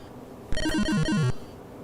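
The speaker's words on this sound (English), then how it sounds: "the phone's fucking rang." A telephone rings once with a short electronic trill of descending tones lasting under a second, fairly loud and close over faint room hiss.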